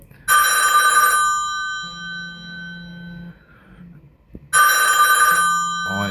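A telephone rings loud and close in two bursts, the first lasting about a second, then a gap with a low hum and faint sounds, then another ring that breaks off as a voice starts.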